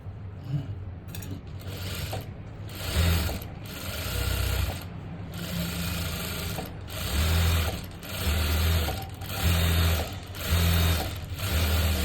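A sewing machine stitches along a fabric lining with a continuous mechanical whir and rhythmic needle clatter, pulsing through several runs close up with no talk.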